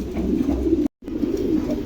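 A pair of pigeons for sale coos close by, low throaty rolling calls that break off briefly in a short gap of silence, then resume.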